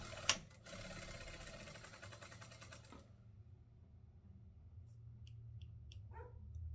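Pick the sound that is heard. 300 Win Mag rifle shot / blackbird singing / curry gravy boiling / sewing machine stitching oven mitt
sewing machine stitching oven mitt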